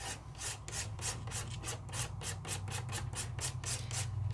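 Blue Sizzix Luster Wax paint being scraped across a surface in quick, even rasping strokes, about a dozen close, soft scrapes in a steady rhythm with no talk.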